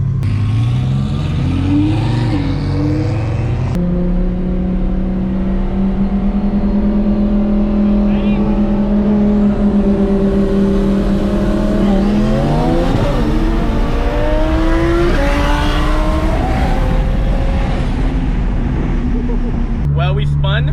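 Twin turbo Audi R8 races a BMW with an N54 engine, loud engine roar rising in pitch through gear changes, with a brief shift break early and a surge near the end, heard from inside the car.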